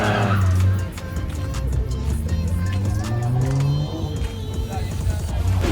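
A BMW E34 wagon drifts with loud, sustained tire squeal and a revving engine up close, the screech rising and falling over several seconds.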